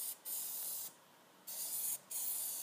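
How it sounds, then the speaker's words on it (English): Plasti Dip spray can coating a car wheel, giving three steady hissing bursts with short pauses between them, close and fairly loud with no talking. "I always stop and shake the can and make sure that I have a good fan and good even coverage coming out of the can."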